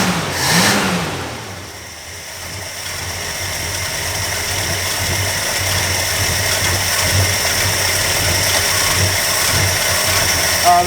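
A car engine idles steadily with a low hum and a light mechanical rattle, after a brief rev near the start; the engine is being tuned for ignition timing and a slightly higher idle.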